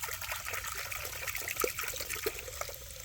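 Tap water runs into a pet's water container to rinse it out, a continuous soft trickle and splash with occasional louder gurgles, fairly faint and steady throughout.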